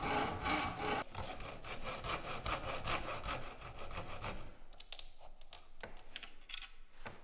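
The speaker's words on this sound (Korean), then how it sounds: "마지막으로 상목의 홈에 맞춰 톱질을 하여줍니다." A hand saw cuts a groove into a wooden part of a traditional Korean horn bow, giving a rapid, rhythmic rasp of back-and-forth strokes. The strokes sound close and fairly quiet, then thin into sparser scrapes.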